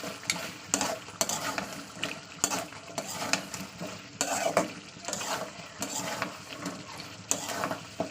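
Meat with garam masala being stirred and sautéed in a pan, repeated scraping strokes of a spatula against the pan over a constant sizzle, at an uneven rhythm.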